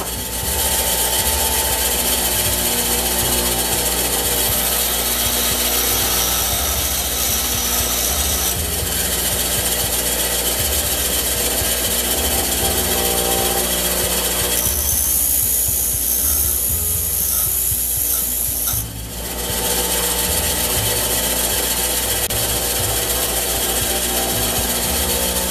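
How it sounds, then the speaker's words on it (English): Bench grinder sharpening a lathe tool bit: a continuous, loud abrasive grinding hiss over the motor's steady hum, with brief pauses and changes in pressure as the bit is worked against the wheel, lasting the whole stretch. "So let's go over to the grinder and we'll sharpen the lathe."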